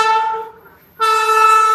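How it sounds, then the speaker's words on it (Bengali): A loud, sustained horn from the Shipra Express at Durgapur station, rich and layered, dipping briefly midway before resuming at full strength. "22911 শিপ্রা এক্সপ্রেস আমরা পেয়ে গেলাম দুর্গাপুর স্টেশন থেকে।"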